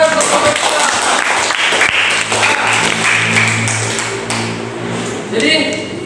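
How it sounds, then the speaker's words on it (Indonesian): A group applauds during a teacher-training class session in an Indonesian classroom, with light clapping mixed with voices and room noise, fading toward the end as talk takes over. "tepuk tangan untuk kelompok kita"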